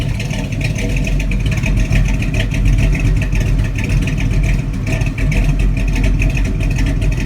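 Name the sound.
1972 Chevy C10 454 V8 engine revving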